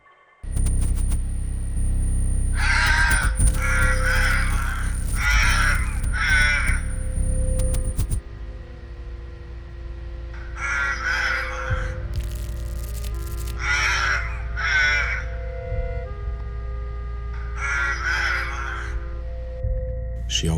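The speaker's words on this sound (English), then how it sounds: "the crows are back in the maple tree" Crows cawing in a maple tree, several loud close bursts of harsh repeated caws in clusters, with gaps between, over a steady low hum.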